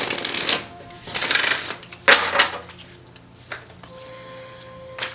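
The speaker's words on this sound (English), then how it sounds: "I'm going to shuffle this quickly." Tarot cards from a new deck riffled and shuffled in several quick bursts, crisp papery flutters close by with short pauses between, no talking.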